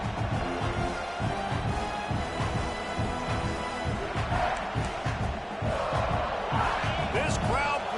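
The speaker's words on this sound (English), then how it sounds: "This crowd bringing the energy and noise early." A dense roar of a large college football stadium crowd, steady and loud throughout, with shouts and whistles rising out of the din.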